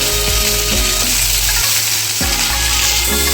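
Chopped tomato and brinjal dropped into potatoes frying in oil in a pan for a prawn curry, giving a loud, steady sizzle with stirring scrapes and no voices.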